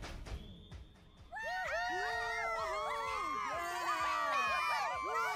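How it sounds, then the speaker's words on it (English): An animated pony crowd cheering Pip in a My Little Pony episode, many voices rising into a sustained chorus of whoops and shouts that stays steady and loud after a short, quieter start. "I truly wish I could be there with everyone cheering Pip on."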